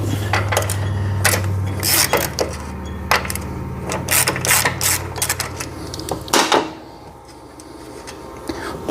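Irregular metallic clicks and clunks from a nut being worked off a Husqvarna MZ6128 riding mower during a broken drive belt change, close up, over a steady low hum that cuts out near the end.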